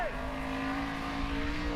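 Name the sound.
1,000 horsepower offroad race car at full speed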